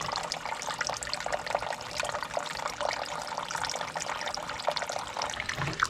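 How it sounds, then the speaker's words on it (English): Water splashes and trickles as a small Wuben G5 mini EDC flashlight is dipped under, a soft continuous burbling with no speech. "You can get the whole head submerged."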